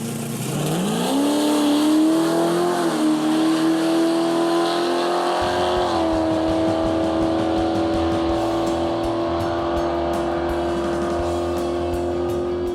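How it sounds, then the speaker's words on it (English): A car powered by a GM 572 crate engine roars up in pitch as the throttle opens, then holds a loud, steady high-revving howl through a burnout, with a rough rumbling undertone and no voices. "We'll do a burnout"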